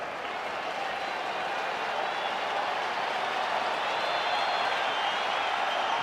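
A packed baseball stadium crowd of more than 50,000 at a Phillies–Dodgers game gives a steady, loud, far-spread roar of cheering and applause that holds without a break.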